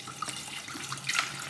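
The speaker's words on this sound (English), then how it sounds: "pour my water in here." Water poured into a pot for heating tea, a soft steady trickle and splash close by with a brief brighter surge near the end, fairly quiet and without speech.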